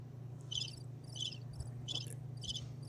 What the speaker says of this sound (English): you want to hear what sound does a cricket make?